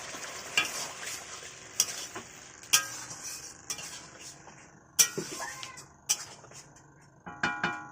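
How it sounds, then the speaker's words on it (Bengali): Spice masala with coriander-cumin powder is stir-fried in a pan for a fish curry with ridge gourd and potato: a constant sizzle broken by repeated sharp clicks and scrapes of a metal spoon against the pan, close up, with no talking. "এবার এটা ভালো করে কষতে থাকুক মশলাটা"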